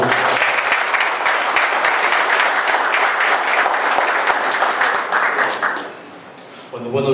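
An audience at a conference on insecurity gives a politician a strong round of applause, a loud, steady wash of clapping that fades out near the end as a voice begins speaking.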